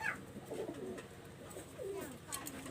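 Teddy high-flyer pigeons coo softly and repeatedly nearby in a loft with breeding pairs, low throaty calls rising and falling over faint background noise.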